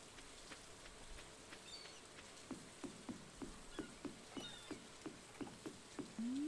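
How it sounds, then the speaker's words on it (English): Soft rain patters in the farming video game Stardew Valley, a faint continuous hiss dotted with small, regular droplet-like ticks and a rising chirp near the end, with no talking. "Dude, it's kind of raining right now."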